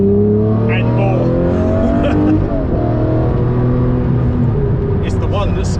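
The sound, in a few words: Lamborghini Murcielago LP670-4 SV V12 engine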